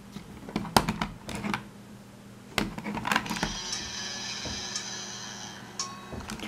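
Several mechanical clicks and clunks of buttons being pressed on a Philips AQ 6595 portable cassette player, followed by a faint whirring hum of the tape mechanism running, with more clicks near the end.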